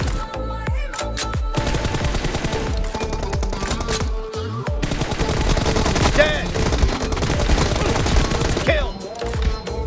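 Gunfire in a team deathmatch shooter game, rapid volleys of automatic shots and sharp single cracks in dense overlapping bursts, loud and close, with brief pauses between salvos.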